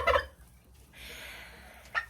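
A turkey gobbles in a short burst near the start, followed by a fainter trailing call about two seconds in, with quiet farmyard background and no talk.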